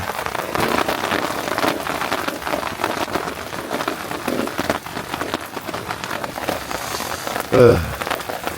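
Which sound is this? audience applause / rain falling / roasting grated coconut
rain falling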